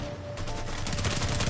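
Enemies fire on the player in Mafia III, a loud, steady stream of rapid automatic gunshots that grows denser and keeps hammering to the end, with no talk over it.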